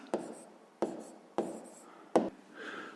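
A pen writes on paper during a sixth-grade maths exercise, giving four short, quiet scratching strokes spaced unevenly, close and alone with no talking.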